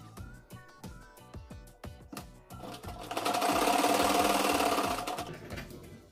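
Sewing machine stitching piping onto the square back neckline of a 32-inch katori blouse, first in short stop-start bursts of rapid needle thumps, then a longer loud continuous run that slows and stops.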